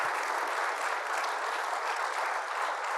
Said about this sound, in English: Round of applause, please, for our panel.